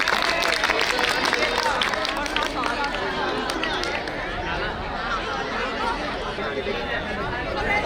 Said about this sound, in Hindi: एक बार बच्चों के लिए जोरदार तालियां।